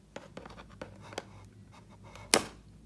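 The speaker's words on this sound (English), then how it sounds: "right now we're gonna cut these plastic rope thingies that hold in the figure." Scissors snip the plastic ties holding an action figure in its toy box, a series of light clicks and scratchy handling sounds ending in one sharp, louder snap near the close.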